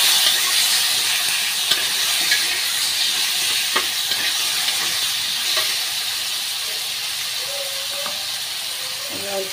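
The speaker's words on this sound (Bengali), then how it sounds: "ভাজা ভাজা হয়ে গেছে, যাতে একটু রসুন বাটা দিয়ে দেবো অল্প করে" Spices and garlic paste frying in a pan give a strong, steady hissing sizzle that fills the whole stretch, loud and close, with a few faint clinks and soft background sounds beneath.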